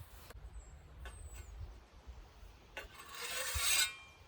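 A blade drawn across the coarse side of a sharpener gives a rough, gritty rasp that swells toward the end of a short pass, with faint knocks and outdoor background noise around it.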